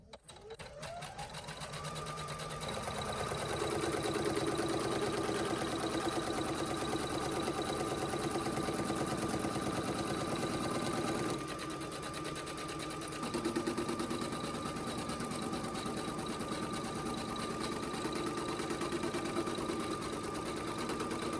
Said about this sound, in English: We're moving on to step 5, and this is the placement stitch.